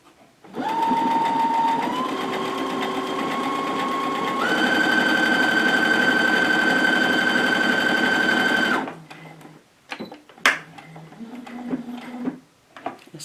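A sewing machine runs decorative stitch 14 with a J foot, a steady loud whirring motor drone that shifts pitch a couple of times before stopping abruptly, followed by a few clicks and handling knocks.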